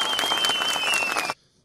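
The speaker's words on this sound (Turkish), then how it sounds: "büyük bir alkış istiyorum" Dense audience applause at a Çankaya Municipality collective labour agreement signing event, loud and steady, then cutting off abruptly after about a second and a half into near silence.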